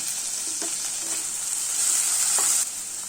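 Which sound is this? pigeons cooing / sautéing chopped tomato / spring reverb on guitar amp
sautéing chopped tomato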